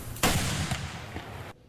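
A detonation wave engine test shot fires in a long tube, a sudden sharp blast followed by a rumbling, crackling roar that lasts over a second, then cuts off abruptly, heard from a distance.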